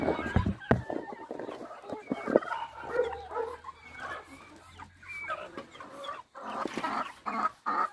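Farmyard chickens cluck and squawk close by in bursts, with a dog barking now and then amid the flock.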